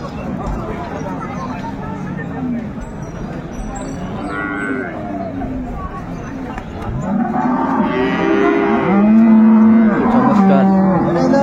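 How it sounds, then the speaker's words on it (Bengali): Dairy cow and calf at a busy village cattle market in Dinajpur, lowing loudly in long repeated moos that swell toward the end over steady crowd chatter and talk. "গাভী বাছুর।"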